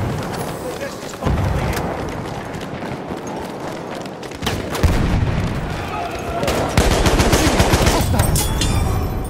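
Rapid bursts of machine gun fire from Battlefield 1, a World War I shooter, crackle continuously and grow louder through the stretch, with other gunfire and booms around them and a voice talking over parts of it.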